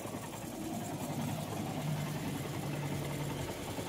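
A Honda Shine BS3 motorcycle idles steadily with a low, even engine hum and no talk, recorded close during a repair of its faulty rectifier-regulator unit.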